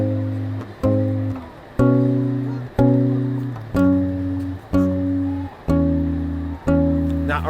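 Guitar plays a song's intro riff as two-note dyads, eight clear plucked chords at a steady, even pace, each ringing out before the next, loud and close with no talk.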